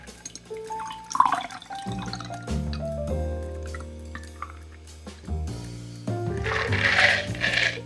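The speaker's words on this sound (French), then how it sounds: "Passoire à glace, passoire fine, et on filtre tout dans le verre." A cocktail is strained through an ice strainer and a fine strainer into a glass: liquid pours and drips with clinking tones and trickling, irregular and close, building to a fuller pour near the end.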